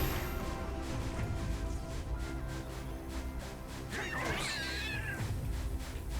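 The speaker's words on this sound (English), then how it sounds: "I don't know if you've ever seen these cat guys before, Megalion. They're called Schrodinger" Cat-like Schrodinger enemies in Lightning Returns meow in a brief rising, wavering cry near the end, heard over a dense, steady game soundscape of music and ambience.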